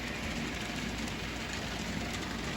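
A model train locomotive rounds a curve on the layout, giving a steady, faint rumbling rail noise with no breaks.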